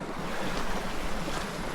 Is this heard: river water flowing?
yes